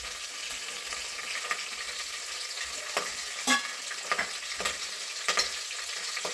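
Chopped onion, ginger-garlic paste and curry leaves frying in a pan for a bottle gourd gravy curry, a soft continuous sizzle broken by a few spatula scrapes and clinks, close by and without speech.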